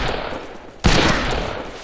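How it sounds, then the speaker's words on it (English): A single sharp, loud gunshot from the Western shooter video game Fistful of Frags bursts out after a brief lull and leaves a lingering echo. "I shot you in the head!"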